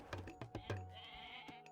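Goats in a Poseidon-faction strategy game bleat in a quick burst of four short, quiet calls followed by a longer, wavering one, then one more brief bleat near the end.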